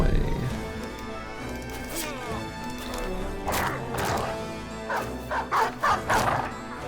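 Dogs bark repeatedly in the Gladiators video game over music and crashing combat noise, with the barks bunched toward the end and someone talking.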